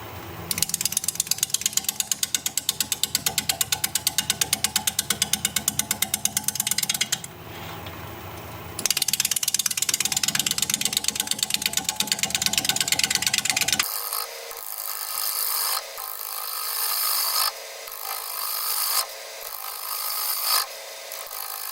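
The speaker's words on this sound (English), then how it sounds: "we're going to be turning at 520 RPM. I'm going to use a 1/2 inch super sharp bowl gouge" A wood lathe turning a bowl at 520 RPM while a half-inch bowl gouge cuts, giving a loud, continuous scraping rasp that breaks off briefly, comes back, then shifts to a thinner, choppier cutting sound near the end.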